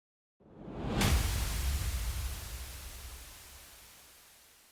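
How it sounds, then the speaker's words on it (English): A noise FX sweep in a music production rises from silence into a bright, loud whoosh of white noise, then slowly fades away, heard alone. "these little FX sweeps, these really make the difference"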